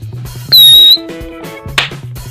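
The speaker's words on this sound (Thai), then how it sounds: "เดี๋ยวจะมีหวีดปั้งอีกอันนึง" A whistling firecracker set off in a rice field gives a loud, steady high-pitched whistle for about half a second, then a short sharp burst a moment later over quiet background hum.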